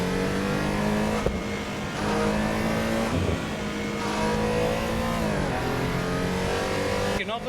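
A Porsche race car engine at Donington in Assetto Corsa Evo drones loud and steady, its pitch climbing and dropping through shifts and revs with a sharp burst near the end.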